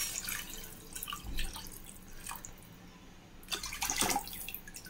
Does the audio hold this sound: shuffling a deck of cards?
no